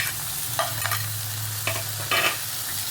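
Onion, tomato and green chilli sautéing in a pan, with a steady low sizzle under a few brief scraping stirs of a spoon against the pan.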